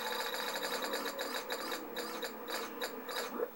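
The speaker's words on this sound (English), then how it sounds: "spin the wheel and see how much money you have" A prize wheel from the Let's Make a Deal DVD game spins with a rapid ratcheting clatter of the pointer ticking over pegs, loud and close, gradually slowing toward the end with no talk.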